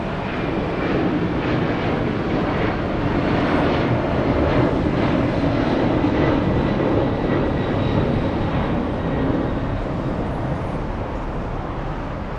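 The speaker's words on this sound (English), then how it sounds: "Big freighter taking off right now. We have the Ghost 767 taking off. Flying to Honolulu." A Boeing 767 freighter jet roars steadily while taking off from LAX toward Honolulu, a loud sustained engine rumble and whine heard from a distance without talk.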